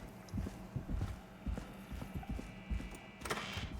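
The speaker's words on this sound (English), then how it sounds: "I can hear footsteps that aren't my own." Footsteps in the video game Killer Frequency land in an uneven run of soft thuds, close and moderately loud, with no voice over them.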